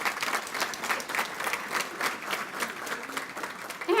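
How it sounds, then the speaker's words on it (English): Applause from attendees of a city's State of the City address thanking a sponsor, dense steady clapping at moderate loudness that carries on for the whole few seconds. "Please give them a round of applause"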